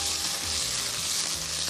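A stuffed vegetable pan-frying in oil, giving a dense, even sizzle close by with faint low clatters, heard alone with no voices.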